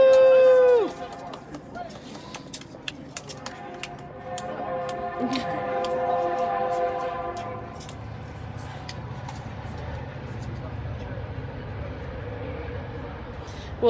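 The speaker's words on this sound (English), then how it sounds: "We'll maybe give it a second before we continue with the presentation, as the train to finish going by." A passing train rumbles low and steady through a crowd gathering at an outdoor event, holding from early on to the end beneath scattered high clatter and the murmur of people talking.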